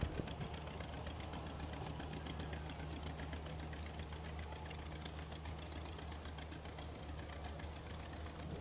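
A classic John Deere tractor with power steering runs steadily in a community fair parade, its engine putting out a continuous low, even chugging throb at moderate distance.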